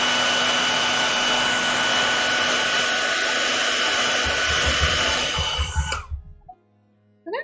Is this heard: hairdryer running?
yes